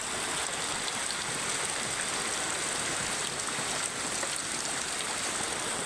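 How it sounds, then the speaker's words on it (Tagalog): A steady, loud roar of rushing floodwater during Typhoon Paolo, knee-deep, constant and broadband with no pauses, like a strong torrent flowing nearby. "Lakas ng tubig"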